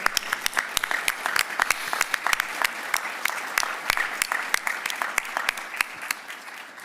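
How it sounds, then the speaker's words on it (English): A room full of people applauding steadily at a county government's annual address, many overlapping claps with a few sharp close ones standing out, sustained without talking. "Round of applause."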